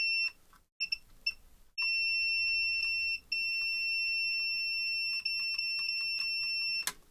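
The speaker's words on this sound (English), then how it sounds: "Let's just test continuity again." A multimeter on continuity mode beeps while probes test the power lead of a dead AXUS USB keyboard, sounding short chirps and then long sustained tones that cut in and out as contact breaks, close and clear, with no talking.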